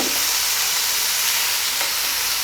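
Small pieces of ooli fish frying with pepper and salt in a pan while being stirred, a steady close sizzle with a faint scrape of stirring and no talking.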